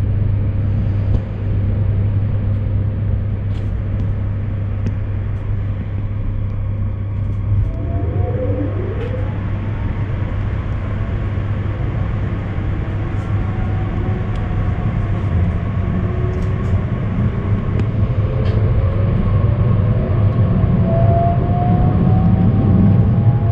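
A Talent 2 regional train pulls out of Falkenberg station, heard from inside as a steady low rumble with rising whine tones from the drive as it gathers speed, loud and continuous without talk.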